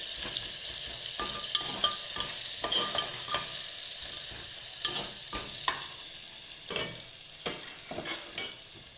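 Ingredients being mixed into hot oil give a continuous loud sizzle, with a spoon scraping and knocking against the pan at irregular intervals, close by and without speech.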